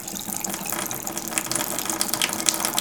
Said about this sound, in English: we'll go right ahead and turn our water pump on